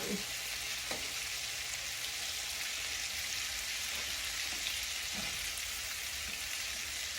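Chicken strips frying in plenty of hot grease in a pan, a steady dense sizzle and crackle throughout, with a few faint stirring clinks close by.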